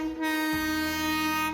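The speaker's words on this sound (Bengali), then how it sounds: "হুইসেল দিতে দিতে ঢুকে গেল আমাদের ট্রেন ভাগীরথী এক্সপ্রেস" The Bhagirathi Express, a passenger train, pulls into a station and sounds a loud, sustained horn that holds steady for over a second, close and clear.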